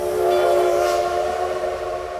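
A train rumbles toward the listener through a tunnel in an audio-drama scene, a steady sustained tonal horn-like drone over a dense continuous roar that holds loud throughout, no voices.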